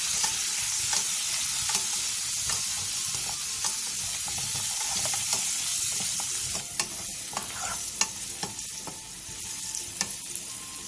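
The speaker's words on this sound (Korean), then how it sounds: "팬에 기름을 두른 뒤 마늘과 알감자를 넣고 센 불에서 2분 정도" Garlic and baby potatoes stir-fried in oil in a pan over high heat, a dense, constant sizzle with repeated scraping and stirring clicks, loud and close, with no one talking.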